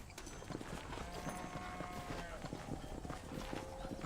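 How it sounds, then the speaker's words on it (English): Horse hooves clip-clop steadily in the Red Dead Redemption video game, a continuous trotting rhythm under game ambience and faint music tones. "Cavalo."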